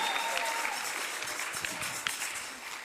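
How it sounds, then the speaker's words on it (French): A church congregation applauds, a dense wash of many hands clapping at moderate volume, steady throughout the few seconds with no clear voices over it. "applaudis pour Jésus-Christ"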